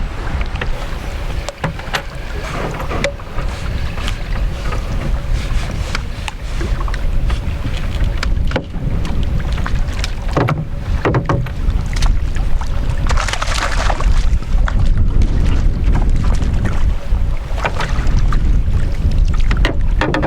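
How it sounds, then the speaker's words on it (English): Strong wind buffets a small fishing boat on the water, a loud, constant rushing roar with gusty swells and occasional knocks and thumps, steady for the whole stretch. "Very difficult to work in this wind."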